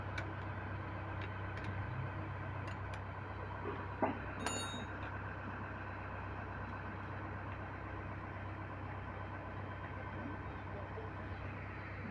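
A vehicle engine idles at a low steady rumble after starting, a constant near drone with a few light clicks and a small knock partway through, and nobody speaking over it.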